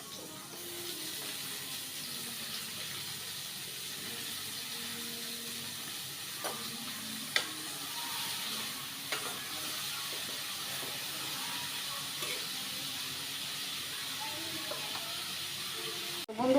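Leafy greens frying with onion and garlic in a home kitchen, a soft steady sizzle with faint scattered stirring clicks and taps, close and continuous without talk.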